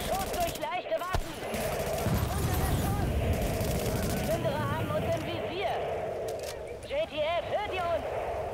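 Light-weapons gunfire in The Division video game, rapid bursts of shots under a continuous game soundscape, with voices talking over it.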